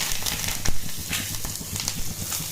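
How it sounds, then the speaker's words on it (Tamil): Mustard seeds, asafoetida and curry leaves sizzle in hot oil for cucumber raita, a dense, close frying hiss with scattered pops and crackles throughout. "இந்த மாதிரி கடுகு ஒடிச்ச விட்டு கொஞ்சமாக பெருங்காயம், அதுக்கப்புறம் கருவேப்பிலை"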